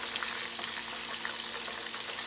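Batter-dipped mushrooms frying in hot oil, a steady dense sizzle and crackle of bubbling oil heard close and fairly quiet, without any talking.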